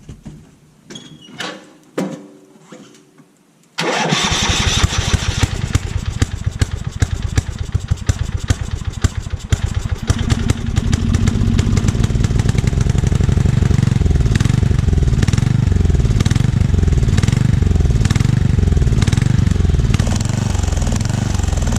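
A pull-behind lawn mower's small engine cranks with a few clanks, then catches and runs loud and rough, a sputtering uneven clatter that continues without letup.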